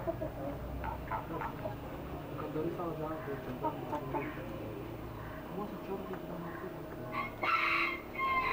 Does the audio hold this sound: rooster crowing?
yes